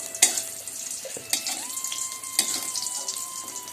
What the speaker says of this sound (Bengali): শুটকি মাছগুলোকে তেলের ওপর দিয়ে হালকা ভেজে নেব